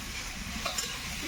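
Chicken chow mein ingredients frying in a pan give a brief, close, even sizzle with a couple of small stirring clinks.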